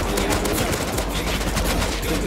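Rapid AK rifle fire in the survival game Rust, a dense, continuous stream of loud, sharp shots that fills the whole stretch without pause.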